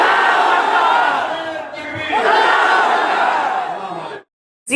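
A large rally crowd roars the Naara-e-Takbeer slogan in loud, sustained unison chanting, dipping briefly before surging again and cutting off abruptly near the end.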